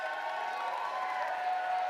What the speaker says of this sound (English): He always gets the loudest applause.